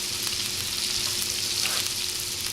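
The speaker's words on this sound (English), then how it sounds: "Nice little sizzle." Ground meat sizzles in a pan on a waste oil cook stove, a steady close frying hiss with soft crackles throughout.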